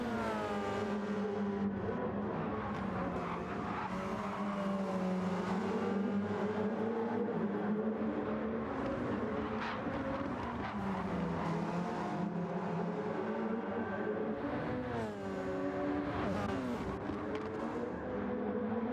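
Race cars, an orange one and a blue one among them, fight for fifth place on a circuit, their engines droning and whining continuously as revs rise and fall through the pack, loud and close, with no commentary over them.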